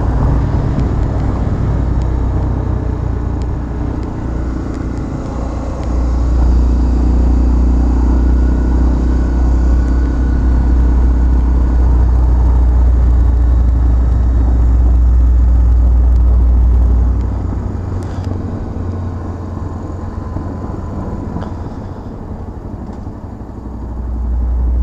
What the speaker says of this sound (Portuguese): Eu vou dar uma puxada na XR aqui pra vocês verem como é que tá sendo.